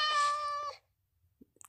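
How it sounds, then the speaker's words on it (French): A cat meows once, a clear, close, drawn-out cry in a Minecraft Doctor Who mod, followed by silence and a few faint clicks. "Ah, c'est le chat."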